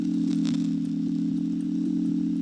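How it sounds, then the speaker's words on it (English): A crackle effect from a free Reaktor microphone emulation plugin, heard as faint scattered crackles and clicks over a loud, constant low tonal hum. "Let's bring the crackle down a tiny bit."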